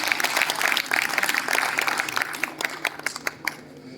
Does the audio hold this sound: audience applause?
yes